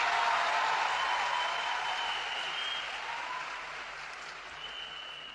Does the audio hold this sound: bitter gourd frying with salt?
no